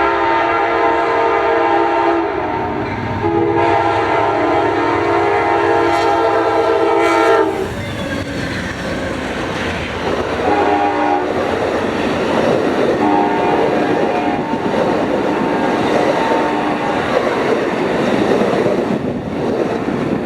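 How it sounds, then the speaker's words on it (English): An Amtrak Southwest Chief led by P42DC locomotive 193 sounds its K5LA horn in loud sustained blasts, then rolls past nearby with rumbling and wheel clatter. "Amtrak Southwest Chief number 4, heading to Chicago, with P42 DC number 193 leading, which had an amazing sounding K5LA"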